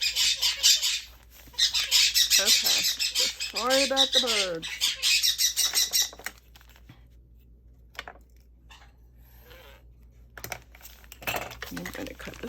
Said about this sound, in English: Okay, sorry about the birds.